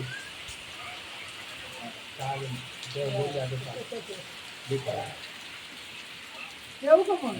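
Sudden rain falls during a family gathering, a constant soft hiss running underneath bursts of nearby conversation and a laugh.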